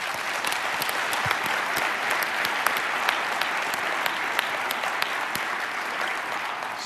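Steady, dense applause from a live seminar audience, many hands clapping evenly at close range with no voices over it.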